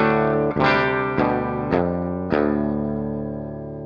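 An electric guitar with a clean tone rings out over four strummed chords in an even rhythm, each sustaining and slowly decaying, with no talk.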